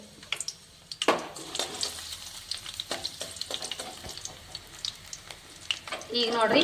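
Garlic crackling in hot oil in a pan for a North Karnataka palya, with intermittent pops and stirring that grow louder near the end, and a voice speaking briefly.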